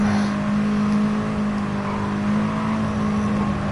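A race car engine in Gran Turismo Sport drones steadily and loud as another car closes in from behind, a constant whirring roar with no talk.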